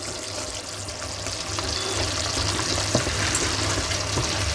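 Fried boondi being stirred into hot sugar syrup on the stove for motichoor laddu; a continuous sizzling, bubbling wash with faint stirring scrapes, close and steady, with no talk.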